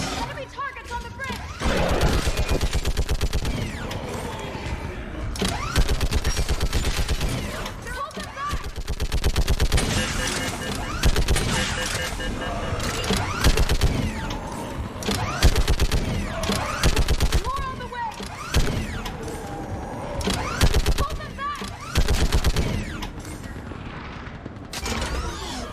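A mounted gun fires in Mass Effect 3, a long, dense stretch of rapid heavy gunfire with booms and mechanical clatter. Voices shout over the constant barrage.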